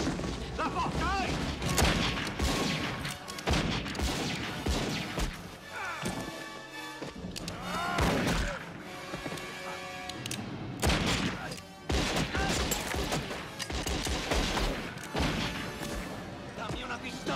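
Rapid gunfire cracks and booms in a chaotic gunfight between cowboys and Wyatt Earp's sheriffs in the film Tombstone, with loud shots in irregular bursts under shouting voices.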